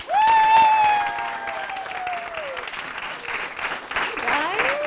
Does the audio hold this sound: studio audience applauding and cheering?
yes